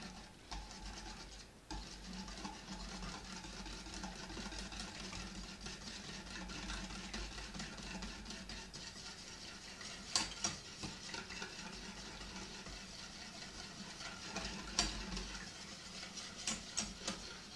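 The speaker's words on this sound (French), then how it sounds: "Le fait de mélanger avec un fouet" A whisk scrapes and clicks faintly and rhythmically through a panna cotta mixture in a bowl, a quiet, continuous stirring with a few sharper taps, and no voices.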